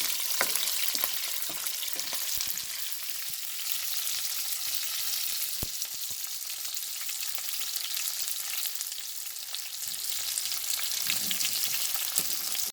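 Onions sautéing with salt in a pan for squid curry, giving a steady bright sizzle with scattered pops and stirring scrapes, close and continuous throughout.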